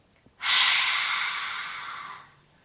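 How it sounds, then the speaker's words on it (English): A long, forceful exhale during a yoga throat-chakra breathing exercise, pushed out with the tongue out, a close, breathy rush lasting nearly two seconds after a faint inhale. "Inhale through the nose, exhale tongue out."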